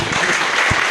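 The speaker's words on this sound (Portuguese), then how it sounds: "Palmas para o Antônio!" Audience applause for a presenter introduced at a talk on design and photography, a steady dense wash of many hands clapping, loud and close, with no voices over it.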